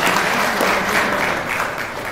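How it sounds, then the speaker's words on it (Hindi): Loud, steady applause from an audience at a university honors ceremony, welcoming the pro-vice-chancellor, filling the whole stretch as a dense wash of clapping. "तालियों की गड़गड़ाहट से हम इनका स्वागत करेंगे।"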